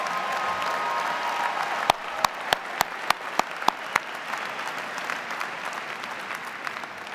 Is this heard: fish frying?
no